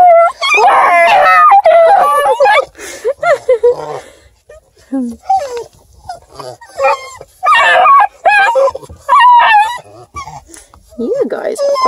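Several hound puppies howl, yip and whimper in a mix of loud and softer cries, overlapping in bursts close by, with no talking between them.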